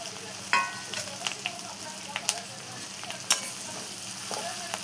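Chickpea greens (harbhara bhaji) frying in a pan with softened onion and tomato, a steady close sizzle broken by scraping stirs and a few sharp clinks of the spatula.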